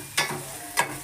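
Mustard seeds, cumin, asafoetida and curry leaves hit hot oil in a pot, giving two short crackling bursts of sizzle over a faint background hiss.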